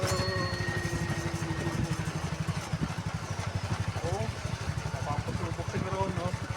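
A motorcycle engine pulls up a steep road with a steady, pulsing mid-pitched chug, close and continuous, while people talk over it.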